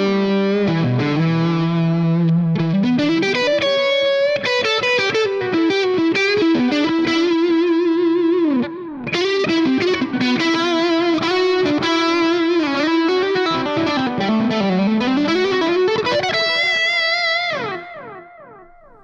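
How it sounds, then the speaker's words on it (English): An electric guitar played through a BOSS JB-2 Blues Driver pushing a JHS Angry Charlie, giving thick overdriven chords and lead lines with slides, heard loud and alone before ringing out at the end. "So this is the blues driver pushing the JHS"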